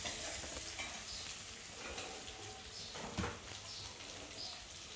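Potato pieces for sabudana khichdi fry in hot oil over medium heat, giving a steady dense sizzle with occasional stirring scrapes and a louder clatter near the middle.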